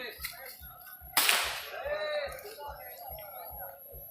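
One sharp rifle crack at a 25 meter three-position shooting competition for an Aceh Tenggara anniversary event, a sudden loud report with a brief decaying tail, while people talk nearby over a steady rhythmic background thump.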